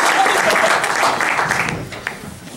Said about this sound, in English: Shall we have a special round of applause for the flute section, ladies and gentlemen?